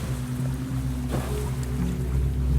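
A boat engine in the survival game Stranded Deep drones steadily as a low, even hum with water and wind wash, staying constant with no change in pitch or loudness and no talk over it.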